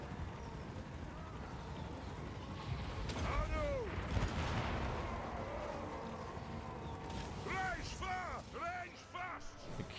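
Artillery in the battle game Warhammer 2 fires in dull, rumbling booms that swell midway and again later, set inside a dense, noisy battle mix with shrill whistling cries and a voice talking over it.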